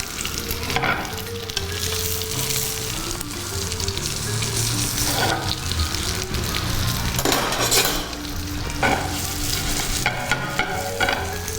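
Beef tongue pieces frying in a pan, a loud continuous sizzle with scraping and stirring noises and occasional clinks of a utensil against the pan, with no talking.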